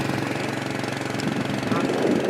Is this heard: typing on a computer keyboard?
no